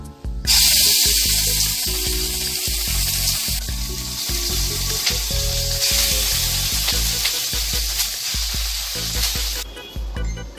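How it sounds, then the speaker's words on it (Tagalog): Small pieces of chicken breast hit hot oil and fry with a loud, continuous hissing sizzle that swells and shifts as they are stirred, ending with a brief quieter moment. "Since the oil is already hot, we will cook the chicken."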